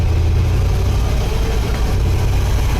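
A Chevrolet Impala engine with a newly installed transmission runs loud and close as it shifts through its gears, a constant low rumble with no clear rises in revs.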